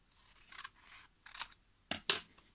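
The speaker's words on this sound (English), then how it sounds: "And here I guess I'm gonna just use scissors." Scissors snip through old book pages in a quiet room: several short crisp cuts, the last two louder and close together.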